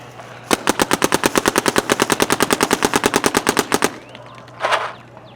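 An Etha 2 paintball gun with a PAL loader fires on ramp mode, a rapid, even burst of about thirty sharp pops over three seconds, followed by a brief rattling shake.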